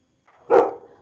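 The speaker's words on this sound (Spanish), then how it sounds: "callamos a la perrita" A small dog gives a single short, fairly loud bark nearby, rising out of near silence and trailing off quickly, with no talking over it.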